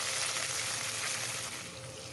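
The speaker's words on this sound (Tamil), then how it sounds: "இப்போ நம்ம க்ளீன் பண்ணி வச்சுருந்த நெத்திலி கருவாடையும் அதில் போட்டு நல்லா வதக்கி எடுத்துக்கலாம்" Cleaned anchovy dry fish sizzles steadily in a hot pan, a dense, even frying hiss that eases slightly toward the end, with no one talking.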